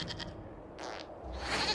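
A goat in Dragon Age Inquisition gives a short bleat or two, mid-range and fairly near, with a brief quieter bleating burst following.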